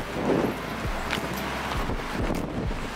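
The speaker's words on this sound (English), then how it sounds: "Oh, it's windy." Gusty wind buffets the microphone in low rumbling bursts, with faint background noise between the gusts.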